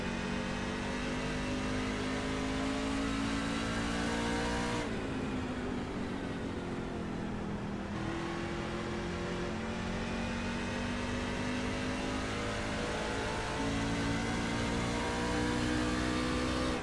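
A race truck engine revs hard on a banked oval, loud and constant, its pitch climbing and dropping through gear and throttle changes with a couple of sharp shifts, no voices over it.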